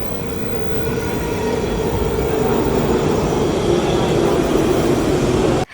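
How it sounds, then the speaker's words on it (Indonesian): Steady rumble of a Taiwan high-speed rail train in motion heard from inside, continuous wheel and track noise with a faint high whine, cutting off abruptly. "Kita naik kereta HSR biar cepet ya lur"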